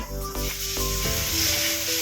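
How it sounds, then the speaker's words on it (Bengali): Potatoes frying in a pan on a gas stove give a steady, close sizzling hiss that runs unbroken under a low tonal hum, with no talk. "গ্যাসের একটা ওভেনে আলু ভাজা বসিয়েছি"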